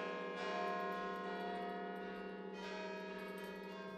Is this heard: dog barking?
no